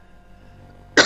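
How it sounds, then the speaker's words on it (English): A single sudden close cough from a man, loud and breathy, coming at the very end after quiet hum. "Sorry, I got a cough."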